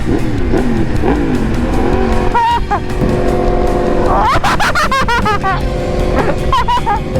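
A high-revving crossplane Yamaha MT-10 motorcycle engine blips and screams through several sharp rev bursts, loud and close, with rising and falling pitch sweeps.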